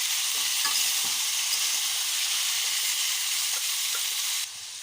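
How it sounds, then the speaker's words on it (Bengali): Steady hissing sizzle of potatoes frying in a pan, continuous and fairly loud, with occasional soft stirring clicks. "আমার আলুটা প্রায় ভাজা হয়ে গেছে"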